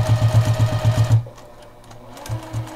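A sewing machine sews quilt binding in a short, close, rhythmic burst of rapid stitches, stops abruptly, then gives a couple of faint single stitches.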